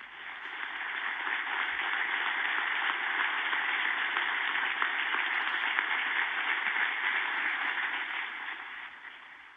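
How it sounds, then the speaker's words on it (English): Steady, dense applause from an audience at a space station downlink event, a continuous wash of clapping that holds evenly throughout with no voices. "You can hear the applause from everybody down here."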